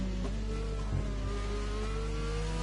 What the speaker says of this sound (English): See, there's a Ferrari coming around the final corner.